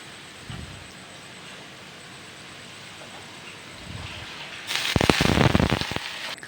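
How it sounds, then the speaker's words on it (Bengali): Strained ridge gourd drops into browned onions frying in oil, setting off a burst of loud crackling sizzle after a quiet stretch of faint frying with a few soft clatters, heard close with no talk. "এবার ঝিঙেগুলো একটু একটু করে জলগুলো ছেঁকে পেঁয়াজের মধ্যে আমি অ্যাড করে দেবো"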